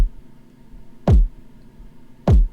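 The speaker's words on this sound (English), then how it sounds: "I think that I just ended up making my own kick." Two deep, punchy synthesized kick drum hits made in Phase Plant ring out alone, about a second apart, each with a fast downward-sweeping boom.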